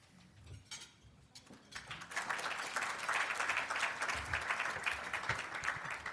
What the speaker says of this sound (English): I like all these applause.